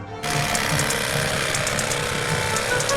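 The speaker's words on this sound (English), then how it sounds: "The Mighty Carver is an electric carving knife that looks, sounds, and feels like a chainsaw." The Mighty Carver, an electric carving knife built to look and sound like a chainsaw, switches on after a brief quiet moment and runs with a steady, close, rattling mechanical buzz until the end.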